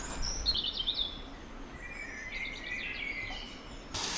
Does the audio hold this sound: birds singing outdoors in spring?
yes